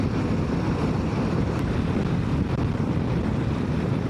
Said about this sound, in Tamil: எனக்கு இவ்வளோ காற்று அடிக்குது